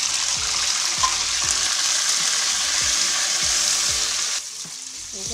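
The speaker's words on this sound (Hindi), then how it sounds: "गोश्त फ्राई करने लगी हूँ" Mutton frying in ghee for Kabuli pulao gives a loud, dense sizzle close up, with repeated stirring scrapes throughout and a drop in intensity near the end.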